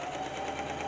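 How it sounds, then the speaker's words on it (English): A sewing machine stitches fabric for a makeup bag, a steady, continuous mechanical whir held at an even level throughout the short stretch with no voices. "I want you to get used to just watching someone sew"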